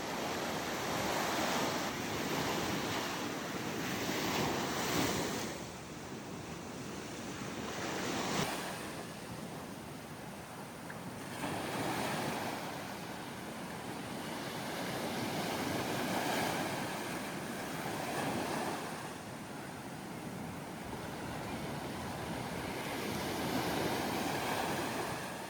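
Ocean surf rolls onto Punalu'u black sand beach, a steady broadband wash with waves swelling and breaking every few seconds, loud and continuous with some wind buffeting the microphone.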